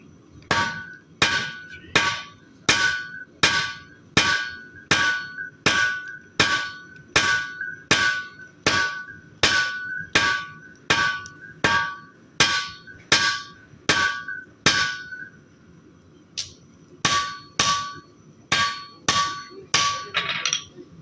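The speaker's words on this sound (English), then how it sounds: "So I start off on the blade side with my rounding side of the hammer, just to kind of get an aggressive start to it." A blacksmith hammers a blade at the anvil with the rounding side of a 4-pound hammer, about two dozen loud ringing blows in a steady, even rhythm with a short pause near the end.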